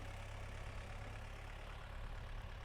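A heavy tractor engine with no load, held at 1600-1700 rpm, keeps a steady, even rumble throughout, close and constant with no change in pitch and no voices.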